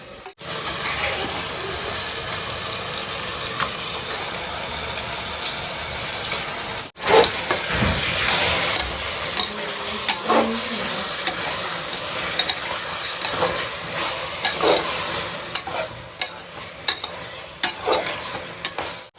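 Chicken pieces cooking in chilli-powder masala in a pot for chicken biryani, with a steady close sizzle and repeated stirring scrapes running throughout, louder after the meat goes in, with no talk.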